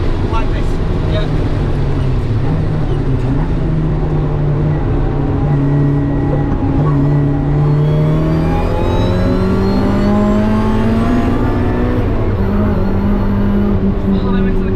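A 350 hp supercharged Mazda Miata pulls hard on the Nürburgring, its engine note climbing and dropping through repeated shifts and throttle changes, loud and close from inside the car, with a voice talking over it.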